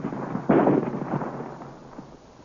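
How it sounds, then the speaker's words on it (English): Ray cannon firing in an old-time Flash Gordon radio drama, a sharp burst followed by a rumbling, crackling decay over about two seconds, loud and close. "Swing the battery of ray cannon into position."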